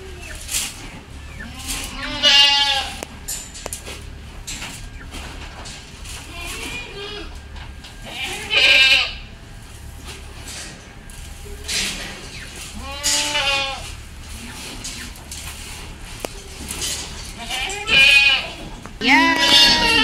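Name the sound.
goats bleating at feeding time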